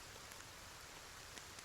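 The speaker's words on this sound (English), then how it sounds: "It's raining." Steady rain ambience at a tabletop role-play session, a continuous even hiss of falling rain at low level, with no talk.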